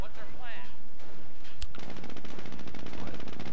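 Rapid machine gun fire in a war strategy video game with squads, jeeps and snipers, bursting in dense and loud after a brief voice at the start.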